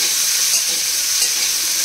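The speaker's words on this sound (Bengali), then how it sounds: "কুমড়ো রাঙালু আর শিম একটু বিনস দিয়ে দিয়েছি দু চারটে আর দুটো বিন্স একটু হ্যাঁ আর একটু কাঁচা লঙ্কা দিয়েছি দিয়ে এটাকে একটু ভাজা ভাজা করি" Pumpkin, sweet potato, flat beans and green chilli frying in a pan give a steady, dense sizzle with faint stirring, close and continuous with no talk.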